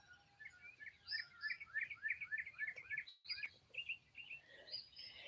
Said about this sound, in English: You hear the little birdies a tweeting.